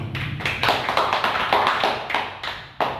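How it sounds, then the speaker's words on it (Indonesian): Hands clapping at a parenting-session meeting, a steady run of sharp separate claps with a few stronger accents, fairly close and alone with no talk. "Kita tepuk tangan untuk Bapak"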